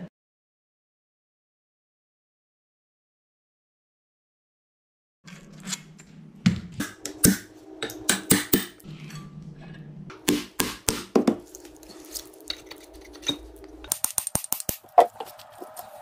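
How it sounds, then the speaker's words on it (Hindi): Nuts come off a Tullu water pump motor under repair: after a long silence, sharp metallic knocks and clinks ring out in irregular bursts, with a faint steady hum beneath and a flurry of quick taps near the end. "सबसे पहले इधर वाला नट को खोलते हैं"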